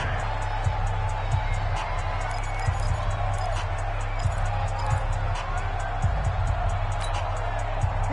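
Steady crowd roar and cheering from an American football video game played on PS4 fills the background, a continuous wash of stadium noise beneath a commentator's voice.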